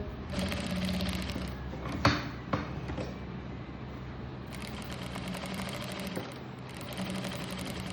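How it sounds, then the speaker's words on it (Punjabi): A sewing machine stitches along the neckline of an umbrella frock, a steady close mechanical whir that runs almost without a break, with a couple of brief knocks partway through and no talk. "ਜਿਵੇਂ ਨੈਕ ਦੀ ਸ਼ੇਪ ਬਣੀ ਹੋਈ ਉਦਾਂ ਹੀ ਸਿਲਾਈ ਲਾਉਣੀ ਹੈ ਬਿਲਕੁਲ"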